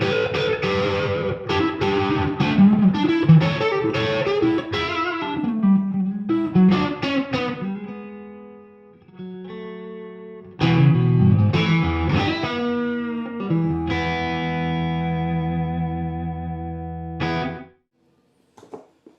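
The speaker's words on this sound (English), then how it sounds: "You're getting a lot of nice, really pronounced Strat tones out the neck pickup" Fender Custom Shop Dale Wilson Masterbuilt '60 Strat Heavy Relic HSS electric guitar played through compressed overdrive on the neck pickup, with loud sustained phrases, bends and chords, brief pauses, then a ringing final chord that cuts off.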